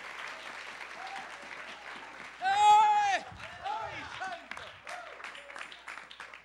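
A church congregation claps during a sermon, steady applause throughout with a loud shouting voice rising over it and other voices calling out.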